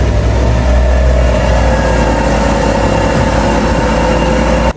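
A car running with a noisy wheel bearing or CV joint gives a continuous loud droning hum with a steady mechanical whir, close and unbroken until it cuts off at the very end.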